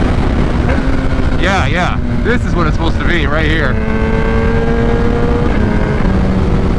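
A 2021 Kawasaki ZX-10 with a flashed ECU revs loudly through quick gear changes, its engine pitch sweeping up and down in rapid shifts, while someone speaks over it.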